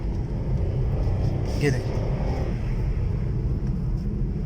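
Suzuki Alto VX being driven through the city with the air conditioning on, a steady low engine and road rumble from inside the cabin while someone talks.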